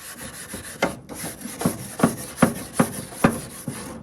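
A wire brush scrubs grill grates in about seven rhythmic, scraping strokes, each a harsh rasp close up, with no talking.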